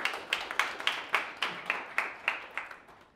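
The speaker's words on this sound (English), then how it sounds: "can we all give him a round of applause" A short burst of scattered audience clapping at a tech conference, around a dozen sharp claps at an uneven pace, fairly faint, with no voices.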